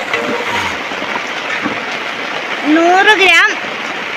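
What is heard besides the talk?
rain falling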